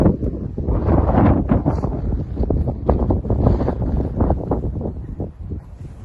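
Strong wind by a lakeside village harbour in Sweden, a loud continuous roar with gusty buffeting against the microphone, heard alone without talk.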